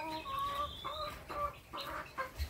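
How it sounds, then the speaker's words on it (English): Hens on a small urban home farm cluck and warble softly in a series of short, rising calls, fairly faint and close together, with a low background murmur. "we have a few hens here looking very healthy"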